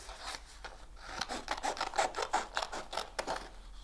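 Scissors cut a length of material for a simple Halloween treat bag, a close, quiet run of crisp snips and rasping cuts in an uneven rhythm, with no talking.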